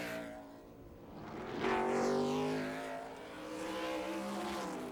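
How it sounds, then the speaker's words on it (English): NASCAR trucks race at Topeka in 1997, engines droning and swelling as they pass, the pitch sweeping down in a broad Doppler shift while a second truck follows close behind. "Hornaday and Ruttman racing hard there."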